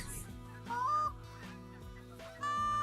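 Geese honking in the hunting game Call of the Wild, a few separate calls over a low steady game ambience, moderately close.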